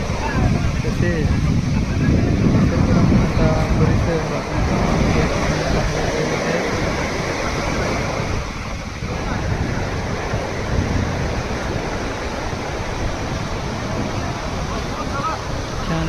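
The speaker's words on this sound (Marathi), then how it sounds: "किती मोठ्या प्रमाणात पावसाचं पाणी उड्या नाल्यातून वाहत आहे" Heavy rainwater rushes through a stream channel beside flooded paddy fields in the countryside, a loud, continuous broadband roar of flowing water with wind, and someone speaking over it.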